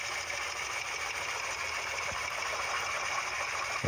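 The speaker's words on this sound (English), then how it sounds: "This is kind of a wacky mechanism to operate this agitator, but it works clearly, and it's tumbling the clothes up top." A vintage Frigidaire Jet washing machine runs its agitator, tumbling clothes with a continuous droning mechanical hum and faint churning, steady and close throughout, with no talking.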